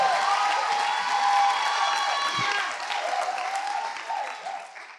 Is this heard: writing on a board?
no